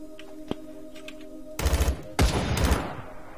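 Rapid bursts of automatic gunfire from a first-person shooter game, two loud volleys in quick succession after a brief quieter lead-in with a faint distant shot.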